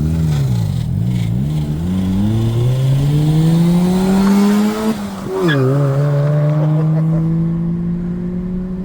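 A 1991 Mazda RX-7 with its rotary engine being driven, engine note rising steadily through the gears, a shift dip, then holding a sustained drone up close throughout.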